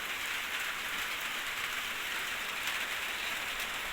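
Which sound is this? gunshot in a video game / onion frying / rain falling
rain falling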